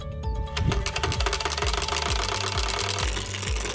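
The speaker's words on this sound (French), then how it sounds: "Quand tu roules, la carte heurte les rayons et fait un bruit amusant, comme un moteur qui tourne" Plastic card clipped to a bicycle frame so its edge flicks the wheel spokes, making a loud, rapid, steady motor-like rattle that buzzes continuously while riding.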